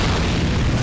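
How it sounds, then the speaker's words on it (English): A deep rumbling explosion boom in the video game Dark Souls 2, a dense, loud, sustained roar that fills the whole moment with no speech over it. "I'm waiting for explosions to happen"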